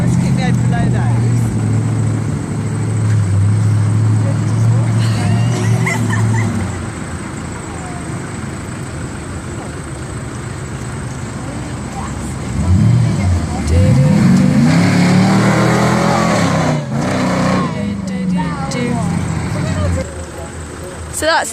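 Monster trucks rumble and roar while driving over cars at a monster truck show, giving a steady loud engine drone with revving surges, heard from the crowd with talk mixed in.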